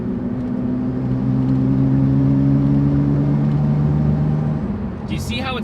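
Nissan GT-R engine held at steady raised revs when given gas, a loud close droning whir with a fault causing unwanted movement, ending with a brief high squeak.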